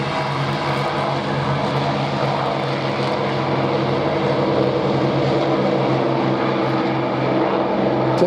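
A Grumman Bearcat propeller fighter makes a high-speed pass at almost 300 mph at the Duxford Flying Legends air show, a loud, continuous piston-engine roar with propeller drone that holds steady throughout.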